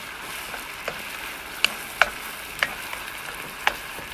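Vegetables with long beans stir-fried in a pan, a steady bright sizzle running throughout with a few sharp clinks of a utensil scraping and tapping the pan, close and alone without talk.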